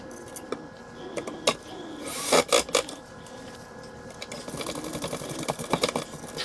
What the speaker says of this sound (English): I'm just screwing them in with these little 1/4" or 1/2" wood screws.